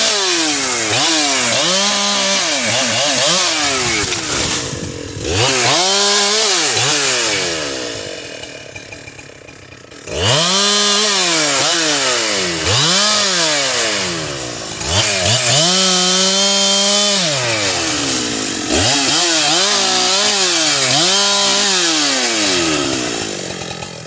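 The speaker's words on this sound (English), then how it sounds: "So Troy's gonna cut this beech out." A chainsaw felling a beech tree during logging, loud and close, with the engine repeatedly revving high through the cut and dropping to idle between passes, two or three cycles in a row.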